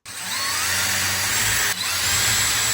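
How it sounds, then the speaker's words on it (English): A power drill bores holes through the plastic face shield of a Stormtrooper helmet, a steady loud whine running almost unbroken for nearly three seconds with a brief dip near the end. "I made my 2 marks, and now I'm going to drill those holes."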